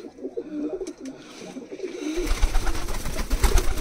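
Pigeons cooing inside an indoor ground-level loft in a room, repeated low soft coos up close, joined midway by a louder burst of flapping or rustling.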